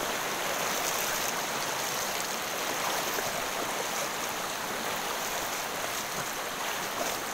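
Steady broadband rush of a waterfall in Serui, Papua, constant and fairly loud throughout, with no voices.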